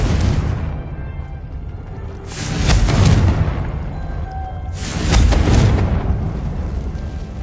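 Confringo blasting spells in Hogwarts Legacy go off as two heavy booming explosions a few seconds apart, each a loud deep burst that swells and then tails off into a rumbling decay, with no talking.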